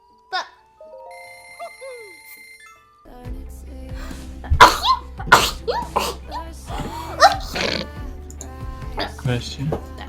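A person sneezes several times in quick succession, loud and close, the bursts mixed with talking and a few chiming electronic tones early on.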